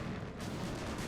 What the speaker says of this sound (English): I think we're about to witness an explosion.